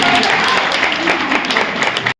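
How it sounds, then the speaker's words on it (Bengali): A loud round of applause from a gathered group at a study centre event, a dense burst of many hands clapping close by that cuts off abruptly at the end. "একটা জোরে হাততালি হয়ে যাবে।"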